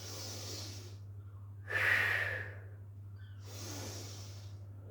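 A person breathes during a pilates upper-body strength exercise: one louder, breathy exhale stands out in the middle between softer breaths, close to the microphone over a low steady hum.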